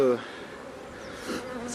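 Domestic honeybees buzz around a beekeeper handling a hive, a steady close insect drone that swells briefly as individual bees fly past.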